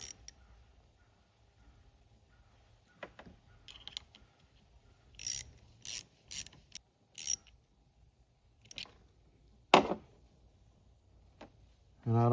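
Ratchet wrench snugging a fitting, no pipe thread, on a blown Polaris Genesis jet ski engine, a light torque of about 5 foot-pounds; several short bursts of clicking and clattering come in sporadic groups over quiet, with no talk.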